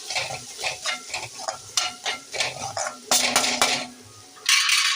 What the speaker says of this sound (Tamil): சேர்த்து நல்லா வதக்கிக்கிறோம்.